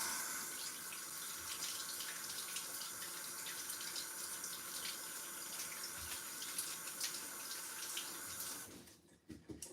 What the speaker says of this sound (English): So you just want to rinse them.